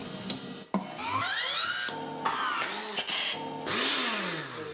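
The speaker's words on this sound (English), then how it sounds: "I think it's a free sample pack of just engines and machinery and stuff like that" A sample pack of engine and machinery sounds played back to back, with abrupt cuts between whirring motors, rising and falling mechanical whines and buzzing drones at moderate loudness.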